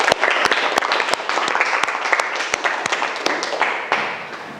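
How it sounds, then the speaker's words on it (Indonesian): A classroom of students gives a round of brisk applause, with many hands clapping together and a few sharp individual claps standing out. The clapping tapers slightly toward the end. "Tepuk tangan untuk kita semua."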